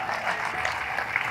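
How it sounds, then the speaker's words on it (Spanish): Applause from a church audience at a service, a brief dense burst of steady clapping. "Un aplauso para ellos."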